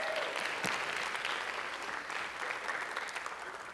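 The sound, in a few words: audience applause at a lecture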